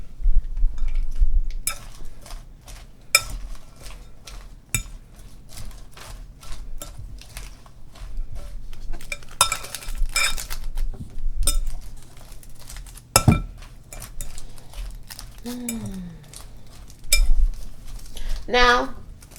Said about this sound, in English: I gotta take this down and stir it up